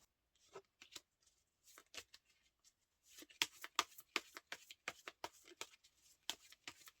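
Tarot cards being shuffled and drawn by hand: sparse crisp card flicks and slides at first, then a quick run of sharp riffling snaps close to the microphone, with no talking.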